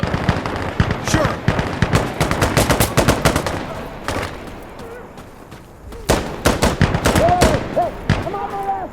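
Rapid bursts of automatic and single gunfire crackle through a firefight in the tactical shooter Insurgency Sandstorm, dense volleys broken by brief lulls, loud and close, with voices calling out in the game.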